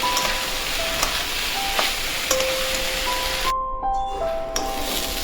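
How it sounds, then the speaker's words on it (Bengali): Raw rice frying in oil in a pan with bay leaves, a continuous close hiss and crackle with occasional stirring scrapes, no talk. "চালটাকে একটু ভালো করে ভেজে নেব"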